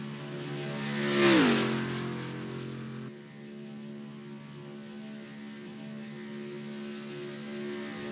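A race car in NASCAR Racing 2003 qualifying at Daytona sweeps past with a loud rising-then-falling engine whine, the pitch sliding down as it goes by, followed by a steady engine drone that continues alone.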